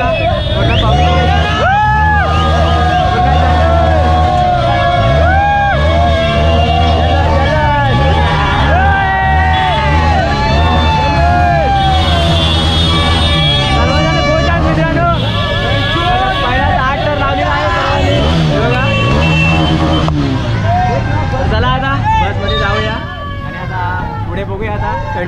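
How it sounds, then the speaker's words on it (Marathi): A cheering crowd at a Govinda human pyramid event in Shantivan, Borivali, where an eight-tier pyramid is built: continuous loud festive hubbub with music and shouting layered over it, and a voice talking through it. "पब्लिकला जल्लोष बघा पूर्ण पब्लिक"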